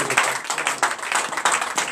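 A congregation at a night deliverance and prophecy church service claps together, a dense, steady patter of many hands that holds loud and close throughout without pause.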